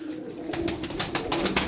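An angry pigeon cooing in a steady low drone with sharp wing flaps clapping through it, close and fairly loud.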